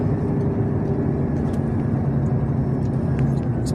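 A car rolls through an Italian motorway toll lane without stopping, a steady, loud low-frequency engine and road rumble from inside the cabin, with no talking.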